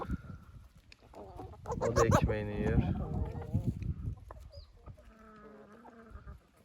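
Chickens cluck and squawk nearby, a busy barnyard chatter running beneath someone talking throughout.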